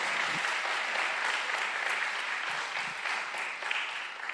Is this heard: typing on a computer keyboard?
no